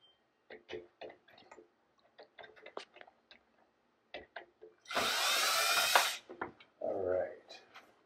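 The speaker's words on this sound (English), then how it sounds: "so what I'm going to do is I'm going to unscrew this." Power drill backing screws out of a vinyl window frame, a loud continuous whir lasting about a second, then a shorter buzz, set among small clicks and handling noises nearby.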